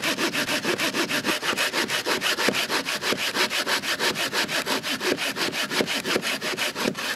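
A folding hand saw cuts through wood in a fast, steady rhythm of rasping push-pull strokes, about five or six per second, loud and close and continuing without a break and with no talking.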